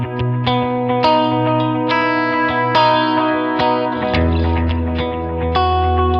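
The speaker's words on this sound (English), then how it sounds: "this uses the timing of the echo repeats to create a specific rhythmic pattern out of a simpler one" Electric guitar run through a rhythmic delay echo effect, each plucked note followed by timed repeats that build a steady pulsing pattern, loud and alone with a slight distorted, chorused shimmer.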